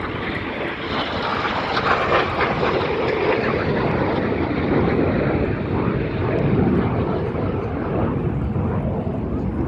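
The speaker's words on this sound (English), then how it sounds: "Each pair of aircraft will now dive down to approximately 200 feet above the airfield" A pair of Red Arrows jets dives low, about 200 feet over the airfield at an air festival, their roar loud and continuous, swelling and washing past as broadband jet noise with no talk audible.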